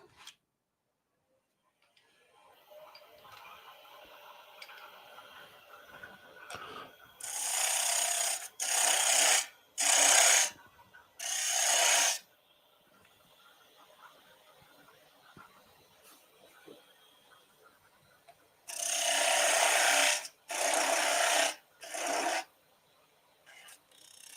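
A wood lathe turning off the tenon of a three-corner bowl, with a faint background hum broken by several loud, rasping bursts of the tool cutting, grouped in two clusters with quieter gaps between, close and without speech.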